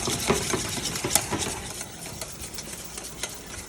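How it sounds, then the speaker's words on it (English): Food being stirred in a lidded pot during a cooking demonstration, a steady close scraping and swishing with faint sizzling underneath, no talking. "Give that a little mix"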